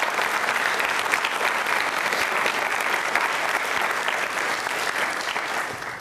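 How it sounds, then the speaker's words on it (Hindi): An audience at a school quiz show on consumerism claps in steady, dense applause that stays even and full for about six seconds. "जानकारी के लिए भी बजा सकते हैं तालियां आप।"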